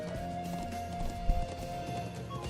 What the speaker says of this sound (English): So now I get to ride a horse.